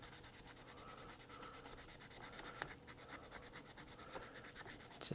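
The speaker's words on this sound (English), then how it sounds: "I'm going to give this a quick sand." Sandpaper is rubbed over a crusty diecast Pinto car body in quick, even back-and-forth strokes, giving a close, steady scratchy rasp with a brief pause midway.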